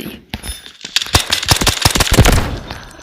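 Rapid automatic gunfire from a rifle in the Delta Force game cracks loudly and close in a fast, continuous burst lasting a few seconds.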